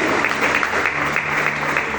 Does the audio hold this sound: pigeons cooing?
no